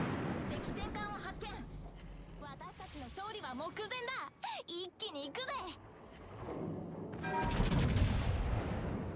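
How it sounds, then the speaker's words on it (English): Secondary battery guns on a Nagato battleship in World of Warships fire in loud, rapid bursts of gunfire and booms, mixed with game effects and under a steady background rumble. "But with the secondaries going, that Nagato will never cap that capture point"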